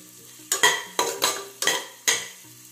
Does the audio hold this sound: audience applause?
no